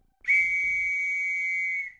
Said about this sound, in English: you hit him with the whistle.